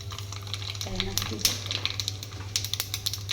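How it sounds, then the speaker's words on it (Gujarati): Whole spices crackle and splutter in hot oil for a dal dhokli tempering, with scattered sharp pops over a steady low kitchen hum. "ફૂટી જાય પછી એની અંદર આપણે થોડીક રાઈ પણ નાખી દઈશું."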